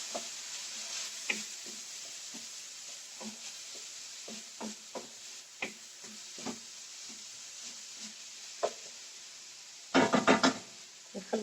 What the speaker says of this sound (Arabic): نحرك حتى تطيح البصيله ديالنا مزيان